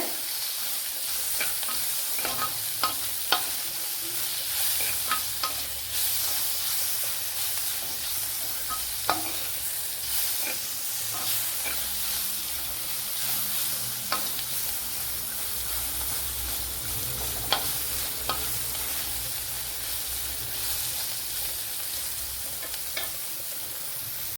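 Onions and tomato sauté in a pan for a vaala fish curry, a steady hiss of frying broken by regular clinks and scrapes of a spoon stirring, with nobody talking.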